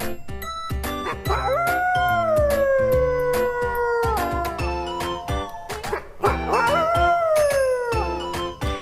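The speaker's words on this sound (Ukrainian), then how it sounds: "Вовк виє, ау." Two long, rising-and-falling wolf howls sound over a steady chiming, percussive music track.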